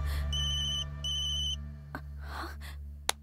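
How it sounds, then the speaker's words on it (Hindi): A telephone rings in two electronic trilling bursts, then stops, followed by faint rustling and a sharp click close by. "फोन क्यों काट रहा है गोपी?"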